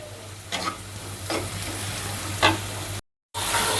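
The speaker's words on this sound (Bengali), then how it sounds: "এই তো ডিমগুলো ভেজে রাখছি আর মশলা দিয়ে দিচ্ছি এই যে কষিয়ে নিচ্ছি" Eggs fry and onion with turmeric, salt and chili powder sautés in a pan, giving a close, steady sizzle with a few stirring scrapes and a brief dropout near the end, no talking.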